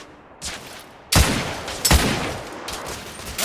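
Gunfire in The Order 1886, several loud close shots and bursts with a short echoing tail, the heaviest blasts landing around the middle, and no talking.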